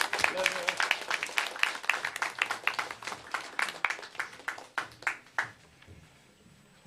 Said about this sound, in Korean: 박수로 목사님을 환영합니다